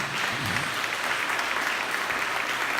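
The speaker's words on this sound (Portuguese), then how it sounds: "Você pode dar um aplauso bem forte ao Senhor Jesus?" A church audience gives strong applause to Jesus during a seminar, a loud, continuous spread of many people clapping together at a steady level.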